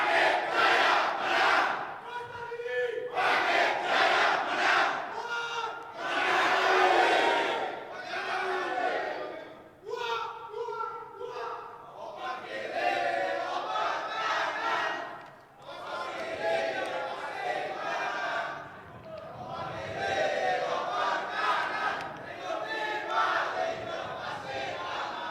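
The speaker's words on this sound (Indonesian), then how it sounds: "kami persilakan untuk memberikan aplaus dan apresiasi kepada pasangan calon nomor urut 2" Supporters at a Bali governor election debate cheering, shouting and chanting in a loud, dense crowd roar that swells and dips in waves throughout.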